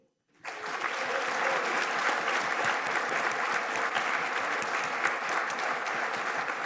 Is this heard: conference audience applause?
yes